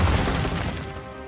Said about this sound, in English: Edward tries to warn James, but he doesn't listen and crashes into Tidmouth Sheds.